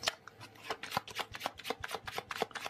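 Oracle cards are shuffled close up in a quick run of crisp riffling slaps and flutters, about a dozen rapid bursts in a row, with no voice over them.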